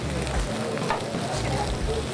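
Chard sizzles and crackles in a hot pan, with garlic already in it, a steady close frying hiss that carries on with no break.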